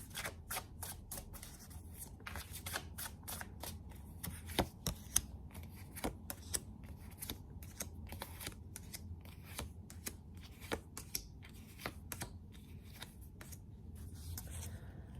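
Tarot cards shuffled by hand at a reading, a quiet run of crisp, irregular riffling snaps and slides close to the listener in an otherwise still room.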